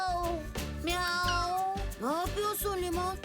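Repeated meows in a high, wavering voice, a cartoon character imitating a cat, over background music.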